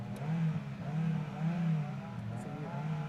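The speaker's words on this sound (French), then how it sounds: "au démarrage, ça fait un bruit de voiture de course" A race car engine starts and revs, a steady mid-pitched drone with rising and falling surges throughout, fairly loud and close, with no talk over it.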